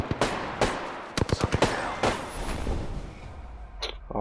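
Gunfire in Apex Legends: a string of sharp, separate shots, some in quick clusters of two or three, close and loud, fading into a quieter tail before one last crack.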